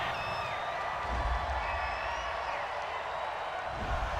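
A large football stadium crowd at a Tampa Bay Buccaneers versus Philadelphia Eagles game reacts to a penalty call with a sustained, loud roar of voices and scattered whistles, dense and continuous throughout.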